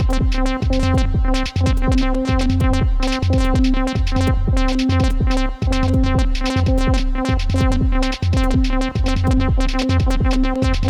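A buzzy UDO Super 6 synthesizer tone pulses in a steady repeating rhythm, its layered harmonics wavering slightly as two oscillators drift out of sync.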